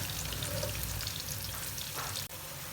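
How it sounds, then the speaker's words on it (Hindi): Chopped onion fries steadily in a pan for white pulao, giving a close, even sizzle that runs unbroken from start to end with a brief dip near the close. "अब इसको फ्राई करेंगे।"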